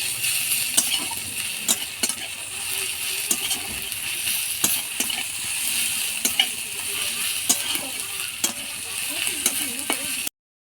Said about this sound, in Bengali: রসুনটাকেও ভেজে নেব।